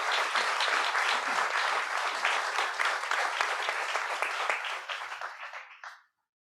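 Warm applause from an audience for panelists at an international forum, holding steady for several seconds, then thinning to a few last claps and cutting to silence.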